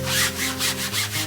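Several quick, rhythmic rubbing strokes across a waxed canvas art wrap, a soft scratchy swish repeating close up over a faint tonal background.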